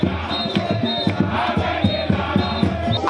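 A charged crowd of hundreds of party supporters cheers and chants at party headquarters, a dense, steady roar with rhythmic pulses close by.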